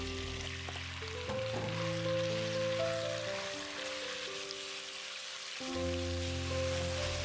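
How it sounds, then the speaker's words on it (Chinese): Duck gizzards hit hot oil in a wok and sizzle steadily, a close, continuous frying hiss with some clatter as they are stirred. "然后把锅烧热，倒入油，再把鸭胗倒进来翻炒。"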